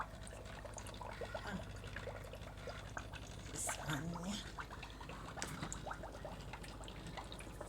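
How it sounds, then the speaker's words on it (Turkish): A small homemade garden waterfall fountain trickles and splashes softly in a steady, faint wash of running water, with light drips throughout. "Bu şelaleyi ben kendim yaptım."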